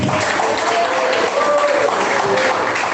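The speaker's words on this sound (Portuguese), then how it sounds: "As palmas que exaltam o Jesus." A church congregation claps in praise of Jesus, a dense, continuous wash of applause filling the space at an even level, with faint voices and tones mixed in.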